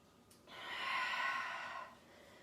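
A single slow exhale during a yoga class while resting in child's pose, a soft breathy rush rising around half a second in, holding for over a second, then fading, close and alone.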